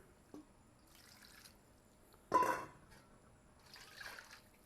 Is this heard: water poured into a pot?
yes